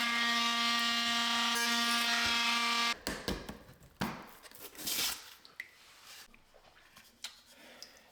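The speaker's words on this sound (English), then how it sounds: "So I can just follow it with my oscillating tool and it'll be a perfect cut." An oscillating multi-tool cuts a line across material during DIY bathroom plumbing work replacing copper lines with PEX. A steady, loud, droning whine runs for about three seconds, then gives way to scattered scraping and handling noises.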